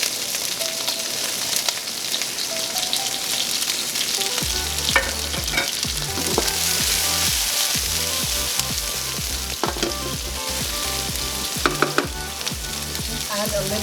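Broccoli frying in a pan, a loud steady sizzle that turns into rhythmic scraping and clattering as it is stirred, with occasional sharp knocks near the end.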